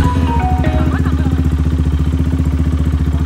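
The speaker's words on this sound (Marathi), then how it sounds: "तर एक छोटी आपली बाईक राईड आहे" A motorcycle engine chugs with a steady rapid pulse close by during a ride, with brief voices heard over the running engine.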